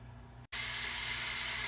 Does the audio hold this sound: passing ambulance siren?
no